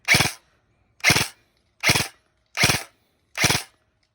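Novritsch SSR15 airsoft rifle firing five evenly spaced single shots, sharp close snaps about 0.7 seconds apart with silence between and no talk.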